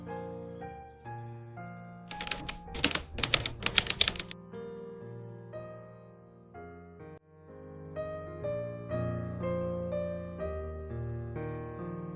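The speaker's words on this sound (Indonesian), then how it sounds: "Sayuti Melik, tolong ketikkan naskah ini." A manual typewriter types out a manuscript in a period drama scene, with a quick burst of sharp, close keystrokes under a soft musical score that carries on after the typing stops.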